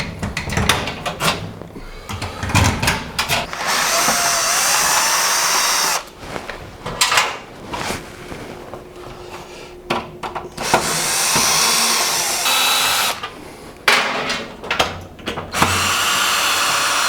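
A power drill whirring in repeated bursts as it drives screws while swapping a key lock for a digital lock, with brief pauses and clicks between runs, close by.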